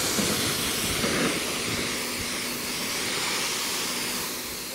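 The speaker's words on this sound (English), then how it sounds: "So we're gonna rinse it off again" A steady, loud hiss of water spray rinses a Tesla Cybertruck's stainless steel body, continuous and close with no talk.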